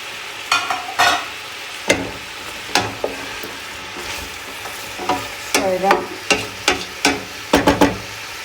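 Green beans and potato sautéing in a pot, a soft sizzle underneath repeated sharp scrapes and clacks of stirring, coming in irregular close bursts that quicken toward the end.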